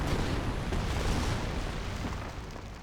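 Artillery barrage explosions in Company of Heroes 1 form a continuous rumbling roar of overlapping booms that fades slightly toward the end, with no talk over it.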